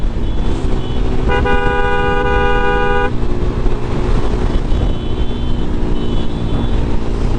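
Steady, loud roar of dawn traffic with trucks and buses on the Dhaka–Chattogram highway, with one sustained car horn blast early on and a fainter honk later.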